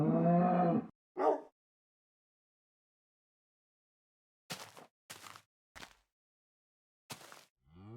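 A Minecraft cow gives a loud moo, followed by a shorter second moo, then a run of brief clipped game sounds after a stretch of silence.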